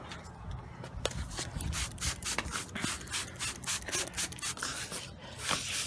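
Car clear coat is wet sanded by hand with 500 grit sandpaper in quick circular strokes, a rhythmic, close scratchy rubbing that repeats steadily with no talking.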